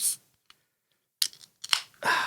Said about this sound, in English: I just need to cut the paper in half and then fold those halves into halves as well